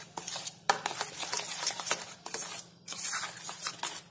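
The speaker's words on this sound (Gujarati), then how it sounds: "તો આ મેં ફૂડ કલર લીધો છે લીલો. બધું બરાબર મિક્સ કરી લઈશું." Green raw mango paste being stirred with green food colour in a bowl, with soft wet scraping and stirring strokes, close and fairly quiet, no voices.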